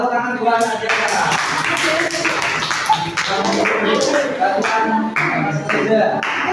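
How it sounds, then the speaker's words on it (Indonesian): Pupils in a fifth-grade Islamic studies classroom clap in unison, sharp rhythmic bursts of hand claps repeating across the room, with children's voices mixed in. "Tepuk tangan dua aja sekarang."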